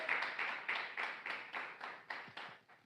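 A church congregation claps together in a steady rhythm, about nine even beats in under three seconds, sounding faint and roomy with no voices over it.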